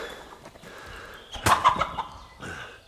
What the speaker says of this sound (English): Oh, I killed the chicken too.